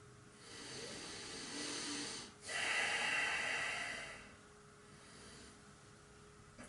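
Forceful breathing during a belly kriya yoga exercise, with drawn-in breaths and pushed exhalations swelling and fading in a few long, close waves over several seconds, no talking.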